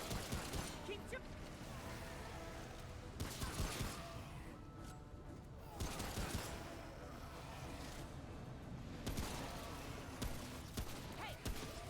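Gunfire in the video game Remnant: From the Ashes, repeated shots and bursts at moderate level over a dense, busy battle soundscape, with intermittent voices underneath.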